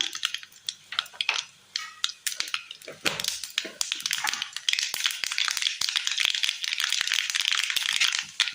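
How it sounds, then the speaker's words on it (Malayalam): Mustard seeds spluttering in hot oil in a pan, a dense crackle of rapid pops and rattling snaps that swells and keeps going steadily, close and fairly loud, with no voices. "എണ്ണ ചൂടായി വരുമ്പോൾ കടുക് ഇട്ട് കൊടുക്കാം."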